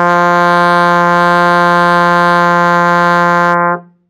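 A trombone sustains a single steady F in first position, slide all the way in, one loud even tone held for about three and a half seconds before cutting off cleanly.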